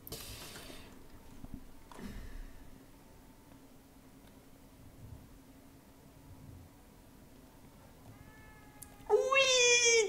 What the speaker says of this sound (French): Ça doit être le chat du jeu.